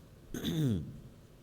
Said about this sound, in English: Sorry, I know clearing my throat is a weirdness.